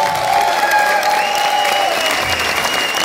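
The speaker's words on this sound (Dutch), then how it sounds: "mag ik even een applaus voor deze fantastische band" A concert crowd applauds a live band at a Dutch party-music show, a steady, fairly loud wash of clapping that lasts throughout, with sustained musical tones ringing over it.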